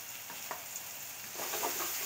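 Chili flakes and a pinch of turmeric being stirred into tomato chutney in a pan, giving soft scraping spoon strokes over a steady low sizzle that grows a little busier near the end.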